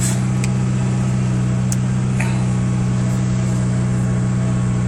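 A 1991 Honda Accord engine idles steadily under a constant low hum, with a few faint clicks and ticks on top of the drone.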